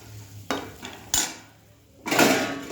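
A metal lid is set onto a cooking pot on a switched-off stove, heard as a few close clanks and clatters with a brief scraping rattle at the end, and no voices.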